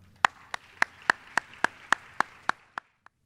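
About ten sharp, evenly spaced hand claps ring out close and clear at a formal talk on violence against women, welcoming the speaker before the clapping stops abruptly.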